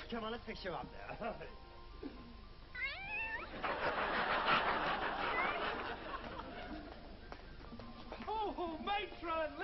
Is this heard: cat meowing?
yes